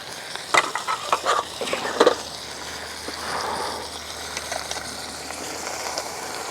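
Pork chop frying in a pan at a campsite, an even, close sizzle broken early by several clattering knocks and scrapes of a utensil, then settling into a steady hiss with no talk.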